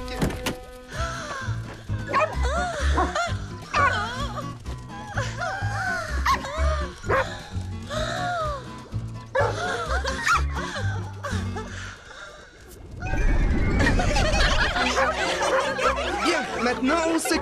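Several small dogs bark and yip excitedly in quick bursts, loud and close, with a burst of laughter and louder commotion near the end.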